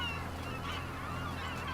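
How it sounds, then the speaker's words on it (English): Seagulls calling in Farming Simulator 25, a steady layered chorus of squawking gull cries over a constant low rumble, loud and continuous throughout with no talking. "I know seagulls are noisy"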